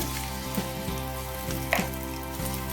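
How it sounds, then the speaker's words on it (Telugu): Oil frying in a pan while aloo paratha filling is cooked, a steady close sizzle with a few soft clinks and stirring taps scattered through it. "ఇది ఇప్పుడు ఫ్రై అయింది."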